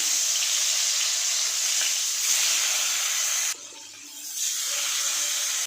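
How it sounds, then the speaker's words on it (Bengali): Tangra fish frying in hot mustard oil, a loud continuous sizzle and hiss close up that briefly drops away for a moment before surging back, with no talking. "এই গরম তেলের মধ্যে দিয়ে দিচ্ছি মাছ"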